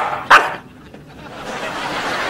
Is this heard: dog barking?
yes